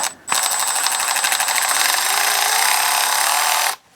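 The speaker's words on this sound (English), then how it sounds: "this might actually work a lot better with this low torque ratchet" Low torque, fast-spinning electric ratchet running a bolt down while building an LS engine at home, a loud continuous high-pitched whir lasting several seconds before cutting off abruptly.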